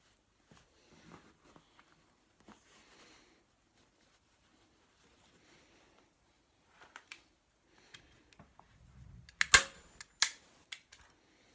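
Staple gun driving staples through upholstery fabric on a rocker, a cluster of sharp snapping clicks near the end, close and fairly faint, after quiet rustling and handling.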